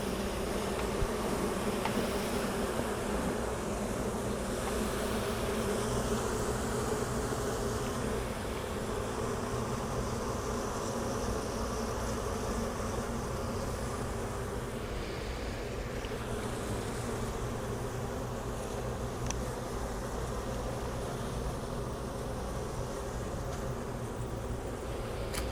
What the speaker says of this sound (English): this is where the bees are a little thick